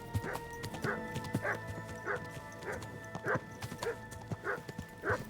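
Dog barking in the Kingdom Come: Deliverance II video game, a series of sharp barks repeating at a steady pace roughly every half second, set against a background of game ambience with faint horse hoof clip-clops.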